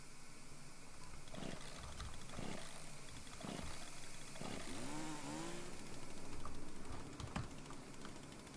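A chainsaw buzzes and growls in The Culling video game, rising and falling over several seconds with growling, snarling cries and keyboard clatter underneath.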